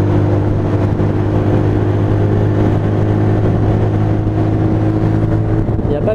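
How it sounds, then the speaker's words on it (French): Mash Seventy Five motorcycle engine fitted with a 14-tooth sprocket running steadily, a loud, close, even drone with a low throbbing hum and no breaks in tone. "on sait que le moteur est en route"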